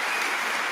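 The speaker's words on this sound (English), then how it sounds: "We're clapping for that." Brief burst of clapping from a podcast studio group, a dense even patter throughout with no voices over it.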